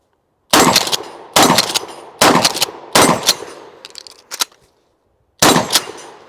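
A left-side-eject shotgun fires five loud, close shots in steady succession at steel plate racks, each blast followed by a metallic clang, then a pause and one more shot.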